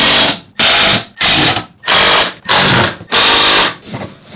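Power drill driving screws into a wooden weight plate rack: six loud, even bursts of whirring motor, each about half a second long, separated by short pauses, close and with no talk.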